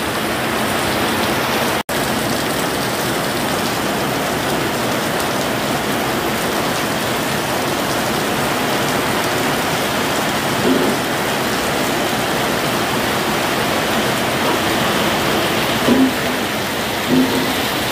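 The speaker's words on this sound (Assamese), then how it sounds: "আহিছে লগতে বৰষুণো আহিছে" Steady heavy rain falls with wind, a dense continuous roar filling the whole stretch at close range, with only a few faint knocks standing out briefly.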